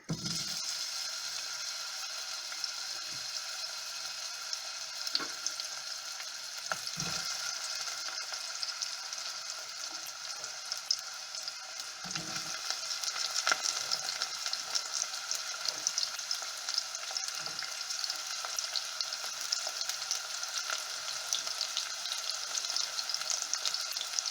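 Onion sizzles and fries in a heated pan, giving a continuous, steady crackling hiss with occasional soft clunks of stirring throughout.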